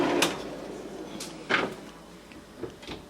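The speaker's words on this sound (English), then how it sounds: "so I'm going to close the doors" Soft-close pantry doors in a kitchen shut one after another, several muffled thuds and light clicks spaced apart, quiet and close with no talking.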